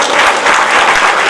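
Loud, dense applause from an audience at a merit award distribution ceremony, a steady roar of many hands clapping close by.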